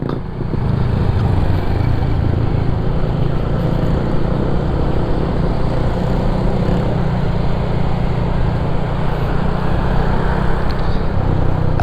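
A motorcycle engine hums steadily and fairly loud while riding along a narrow, crowded road, a continuous buzzing drone with no pauses.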